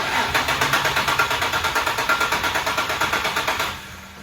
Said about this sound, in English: This thing cranks but does not start.